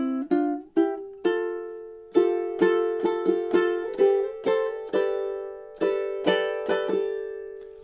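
Ukulele strumming a two-measure pattern with quick double-time strums near the end, bright chords ringing clearly and alone in a steady rhythm of about a dozen strokes.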